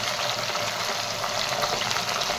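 Cluster beans and potatoes with turmeric and salt being stirred in a hot pan, a steady close sizzle with soft scraping running evenly throughout.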